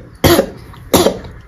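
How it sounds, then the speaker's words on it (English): Two sharp, close coughs, about a second apart, each a quick harsh burst in an otherwise quiet space. "So I'm gonna cough"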